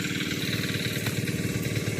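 A small engine driving a water drainage pump runs steadily and close, with a fast, even chugging pulse and a constant buzzing drone that holds without change.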